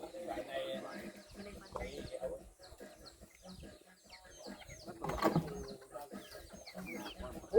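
Chickens cluck and fowl call at a family gathering, with intermittent clucking heard close by between people talking.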